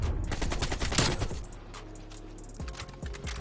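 AK-47 fire in a shooter video game, a loud rapid automatic burst up front that trails off into scattered shots and clatter.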